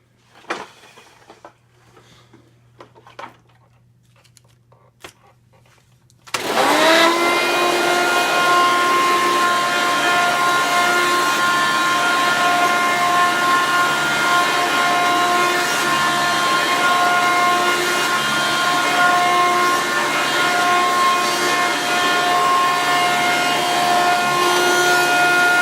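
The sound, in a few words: Hoover Runabout toy vacuum cleaner running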